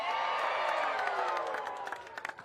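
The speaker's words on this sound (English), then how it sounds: "let's give a big cheer for all you" A crowd at the Eddie Aikau big wave surf invitational cheers and claps in a steady, fairly distant wash of applause and whoops that thins toward the end.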